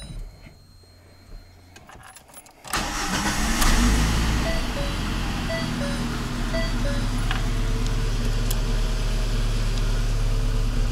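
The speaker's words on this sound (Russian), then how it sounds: "Мотор надо провернуть." A VAZ 2110 car engine is cranked in a garage and then catches, settling into a steady, loud running drone that continues to the end after a short quiet stretch at the start.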